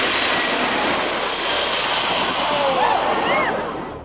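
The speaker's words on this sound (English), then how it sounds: "The roar from the plane engines is so intense" Jet engines roar loudly as a plane passes low over Maho Beach, a dense broadband blast that swells and then fades toward the end.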